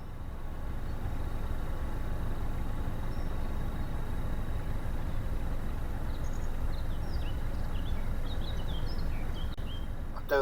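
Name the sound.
old narrowboat diesel engine running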